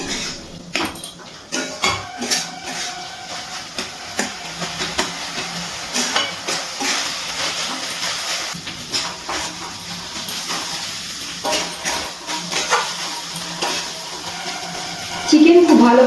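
Minced chicken for keema masala fries over a medium gas flame, giving a steady, close, hissing sizzle with scattered crackles and stirring scrapes throughout.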